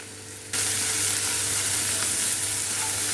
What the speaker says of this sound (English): Now let the onion cook.